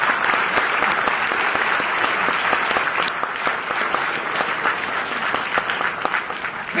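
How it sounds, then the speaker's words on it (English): Big, sustained applause from a crowd at a student felicitation program for kids receiving certificates, dense and even clapping throughout with scattered sharp claps. "give them a big applause."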